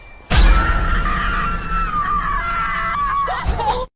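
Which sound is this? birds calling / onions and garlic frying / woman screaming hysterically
woman screaming hysterically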